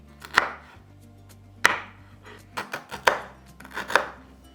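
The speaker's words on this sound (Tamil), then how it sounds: "இதில் இந்த காம்பு பகுதி, இந்த நுனி பகுதி கட் பண்ணிவிட்டு இதை 3 துண்டாக வெட்டி எடுத்துக்கலாம்." Drumsticks (moringa pods) being chopped into pieces with a knife, five sharp board-striking chops at uneven intervals, close and clear with no talk.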